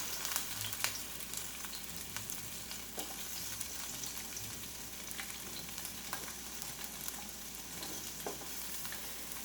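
Onions sweat in oil in a pan with a faint, continuous sizzle and occasional soft stirring clicks, heard quietly on their own.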